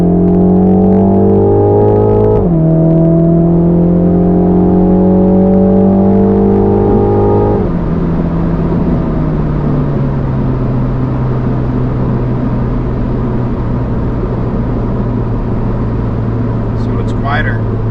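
A car exhaust with a sports cat runs in sport mode, giving a steady low engine drone that drops in pitch after a few seconds and then settles into an even hum.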